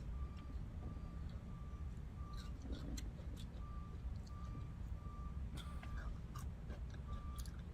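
A truck backs up outside, its reversing alarm beeping at a steady, repeating pace, faint and distant as if heard through thin windows, over a constant low rumble of outdoor noise.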